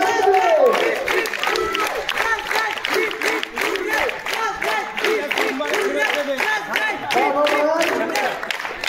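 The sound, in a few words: audience applause at a school sports prize-giving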